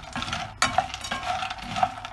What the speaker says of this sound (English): to fry the soya bean in the mustard oil